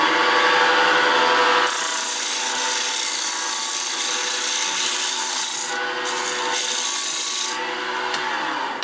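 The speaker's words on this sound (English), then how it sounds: "I think I can take care of that with sandpaper." Sandpaper rubbing a turned plywood bracelet spinning on a lathe, a continuous close hiss and rasp over the motor's steady hum, pausing briefly near the end.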